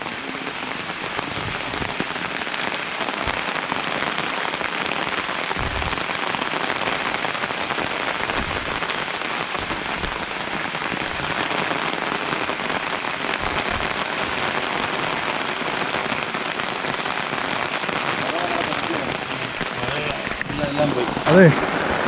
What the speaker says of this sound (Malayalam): അതെ, ഭയങ്കര മഴ, ഒരു രക്ഷയുമില്ല.